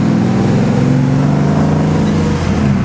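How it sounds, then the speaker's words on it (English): A 1966 El Camino with a 283 power pack V8, 4-barrel carburetor, 4-speed and dual exhaust with mufflers drives along, a loud steady low engine rumble heard from inside the cab. "This is a 283 power pack, 4-speed. Really nice driving. It's 4-barrel, dual exhaust. Got nice mufflers on it, so it sounds good."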